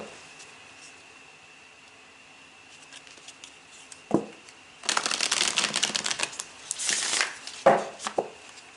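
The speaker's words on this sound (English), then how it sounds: "let's give the affirmator a couple of" After a quiet stretch, tarot cards are shuffled close up in a couple of quick riffling bursts with soft taps between them.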